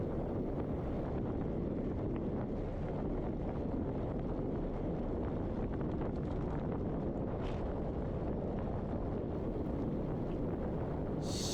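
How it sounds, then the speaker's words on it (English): Strong headwind roars across the microphone of a bicycle in a crit race, a loud, unbroken buffeting rush lasting the whole stretch with no talking. "As always, there's a headwind as soon as you turn this corner."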